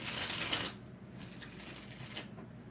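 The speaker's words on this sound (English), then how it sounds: "Alright, 5 shuffles." Tarot cards shuffled by hand, a dense riffling burst up close followed by softer intermittent card rustles, with no talking.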